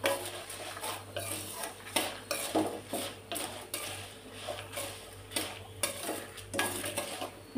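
Ingredients fry in a pan until golden while a utensil scrapes and stirs, giving repeated metallic clinks and scrapes over a steady low hiss, close and moderately loud, with no voices.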